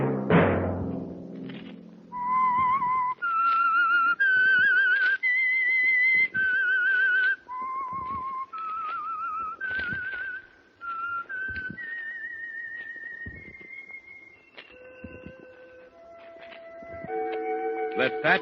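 Someone whistles a slow, melodic tune of clear sustained notes, alone and close, with brief pauses between phrases, as the signal theme of an old radio program.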